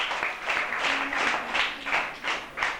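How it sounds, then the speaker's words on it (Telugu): A group of children claps together for a young man at a summer camp, a brief burst of rhythmic clapping in uneven waves, moderately close and fairly soft. "ఓకే, అన్నయ్యకి చప్పట్లు కొట్టండి."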